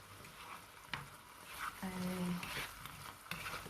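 A pot of coconut milk curry with mushrooms simmering, giving a soft steady bubbling and sizzling patter, faint and continuous, with a brief tonal hum partway through.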